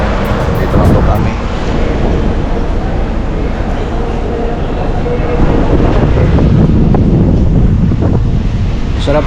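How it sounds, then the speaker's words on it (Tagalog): Strong wind buffets the microphone at a bus terminal stopover in Lucena, a loud, continuous low roar and rumble with gusty swells, steady throughout. "masarap na po yung hangin dito"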